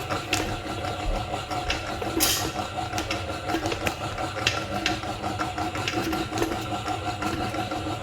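A stand mixer runs on low, straining as it folds almonds and pistachios into thick honey nougat. Its motor whirs in a steady, moderately quiet drone, with small irregular knocks throughout.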